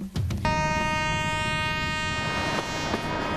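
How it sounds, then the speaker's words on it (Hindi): A Kalka-Shimla narrow-gauge toy train in the Himalayan hills sounds a long, steady, loud whistle over the rumble of its running, a brief knock at the start and clanks near the end. "सीटी बजाती है, तब भी यही टॉय ट्रेन जो है पर्दे पर नजर आती है।"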